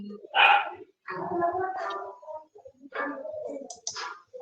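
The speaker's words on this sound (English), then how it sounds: "there is a dog." A dog barks in a few separate, moderately loud woofs and yips at irregular intervals, somewhat close, mixed with faint clicks and no clear talking.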